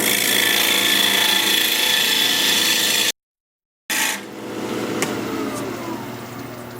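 A wood lathe spins a cherry live-edge mini-bowl, giving a steady hum with a whine that stops briefly, then the machine runs again at a higher speed.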